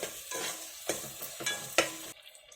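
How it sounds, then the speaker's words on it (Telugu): Ginger paste frying in a pan for mango mutton curry while being stirred, a quiet sizzle broken by several scraping strokes of a spoon, close up with no voices. "2 స్పూన్లు అల్లం పేస్ట్ వేసేసి బాగా పచ్చివాసన పోయే వరకు వేసేసుకుందాం."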